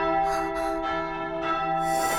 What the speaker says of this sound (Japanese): 鐘が鳴るのです。